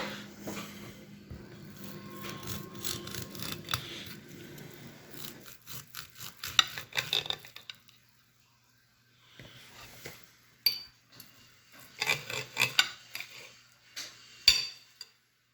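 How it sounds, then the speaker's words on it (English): Knife sawing open a fried steak on a plate, a run of scraping and clinking cutlery strokes, then a pause and more sharp clicks against the dish, close-up with no talking. "Okay, so we're gonna cut this open here."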